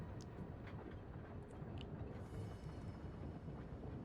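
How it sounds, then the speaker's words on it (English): A train ride in a video game produces a low, continuous rumble of rolling rail cars, steady and muffled, with faint higher clicks scattered above it. "it's autoplaying. Because we're on a train."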